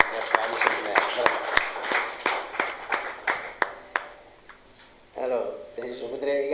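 A gathering applauds a bay's new membership in an association, a brief round of scattered, sharp claps close by that thins out and fades, followed by a voice starting to speak.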